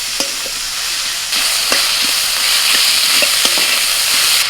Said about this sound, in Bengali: রসুনটা একটু ভাজা হয়ে গেলে পেঁয়াজ কুচি দিয়ে দেবো